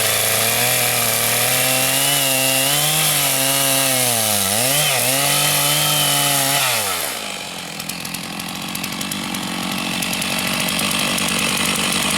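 Chainsaw cutting a dovetail shape into wood for furniture, the engine droning loud and close with pitch dips as it bites, then easing to a rougher idle-like rasp.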